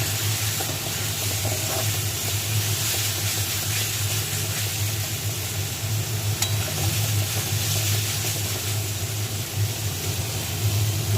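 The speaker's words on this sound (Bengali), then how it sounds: "চিংড়ি মাছটা মশলার মধ্যে দিয়ে দেবো।" Shrimp frying in a spice paste with cumin powder in a pan, a steady close sizzle with continuous hiss and light stirring throughout, no talking.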